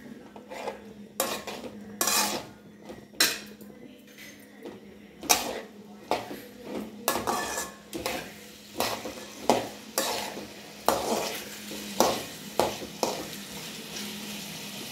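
Potato pieces frying in turmeric-laced oil as a spatula scrapes and knocks against the pan in repeated strokes, a dozen or so clattering hits over a soft continuous sizzle, close by.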